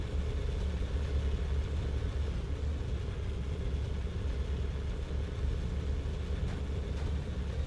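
Tank engine in the game Sprocket running at high revs, a steady dense low rumble with constant drone, loud and unbroken throughout with no talk.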